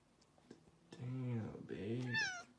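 A cat gives two drawn-out meows close by, the second rising higher at the end, in an otherwise quiet indoor space.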